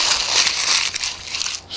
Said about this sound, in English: Take a piece of parchment, probably half for each. Scrunch it up, unscrunch it,